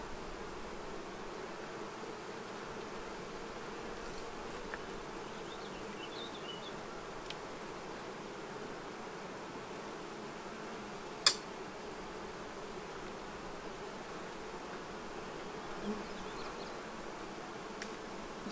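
Honey bees buzzing around an open hive, a soft, steady hum with a few individual bees droning past nearby and one brief sharp click partway through, with nobody speaking.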